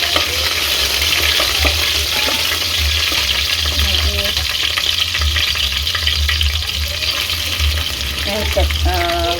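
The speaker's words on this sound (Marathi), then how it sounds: "लसूण पयलीं मातशें हें करपाची" Garlic and curry leaves fry in hot oil in a pan, a loud continuous crackling sizzle over a low steady hum, with stirring noises throughout.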